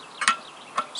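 Two small, sharp clicks of a clutch part seating during a Toyota engine assembly sound about half a second apart, faint against a quiet background.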